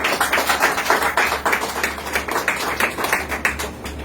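An audience claps at a wedding anniversary celebration held by a disability trust, a dense run of quick, close hand claps that continues steadily without pause and without any voices over it.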